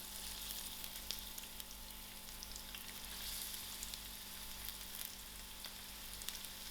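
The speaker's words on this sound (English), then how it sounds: "To my oil, I'm going to add in my onions." Onions fry in hot oil in a heated pot, giving a steady, dense sizzle that carries evenly throughout with no pauses.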